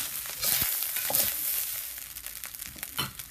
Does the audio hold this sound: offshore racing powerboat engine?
no